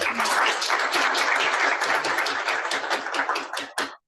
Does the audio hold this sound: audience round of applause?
yes